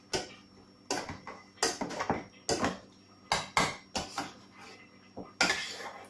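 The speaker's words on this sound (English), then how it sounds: "grab your masher and your pan with your potatoes in, and just give them a good mash" Boiled potatoes mashed with a potato masher in a pan: a series of sharp metallic clanks and thuds against the pan, irregular and close, about a dozen strikes with soft squashing between, no talk.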